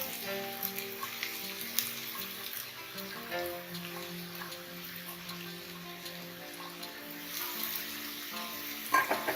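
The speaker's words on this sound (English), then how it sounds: "I'm going to add the spring onions into the pot." Spring onions sautéing in hot ghee in a pot over medium heat give a steady, moderately loud sizzle with occasional stirring clicks and scrapes, no voices, and a sharper clatter near the end.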